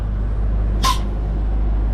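A truck trailer's air brake being applied releases one short, sharp pneumatic hiss over a steady low engine rumble, with no talking.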